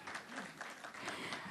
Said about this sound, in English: I figured that would get some applause.